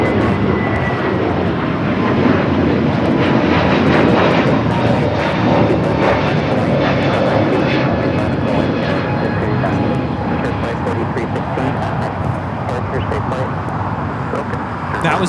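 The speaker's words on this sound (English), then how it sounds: "That was Frontier 4316 taking off to Atlanta on the A321neo" A Frontier Airlines Airbus A321neo jet in a special green livery takes off, a loud, sustained engine roar dominating throughout with steady broadband rumble and whine, traffic noise and voices faintly underneath.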